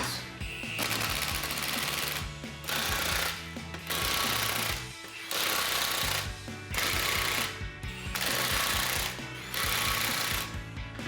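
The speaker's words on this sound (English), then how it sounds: "Now with your 13/16 socket on an impact, you can try tighten these back up in a star pattern going crossways." An impact wrench with a 13/16 socket drives control arm bolts back in on a 2021-2025 Ford F-150, in a crossways star pattern: six or seven loud hammering bursts of a few seconds each, close by, separated by short pauses, with no talk.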